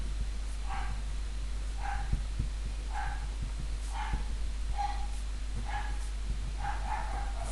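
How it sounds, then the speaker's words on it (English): A dog barks repeatedly downstairs, muffled and distant: about nine short, evenly spaced woofs over a steady low hum. "apologies for the dog going bonkers downstairs"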